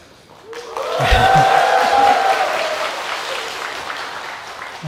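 Applause at a Sunday church service swells up suddenly along with a loud shout or cheer, then the clapping carries on steadily and fades slightly toward the end.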